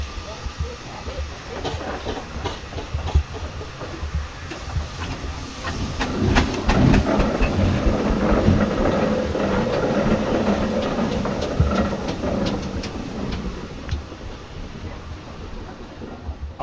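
Steam engines in a yard at a road run in Omagh hiss and vent steam with rhythmic chuffing and clanking, swelling louder midway and then easing, heard at moderate distance over ambient outdoor noise.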